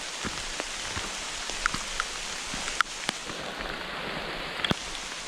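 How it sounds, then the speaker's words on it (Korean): Heavy rain drumming on a Hilleberg solo tent during a backpacking trip in windless weather, a dense steady patter with sharper individual drops striking close by. "그래서 지금 비가 엄청 오고 있습니다."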